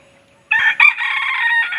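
A rooster on a mountain farm gives one loud, close crow lasting over a second, with no talk around it.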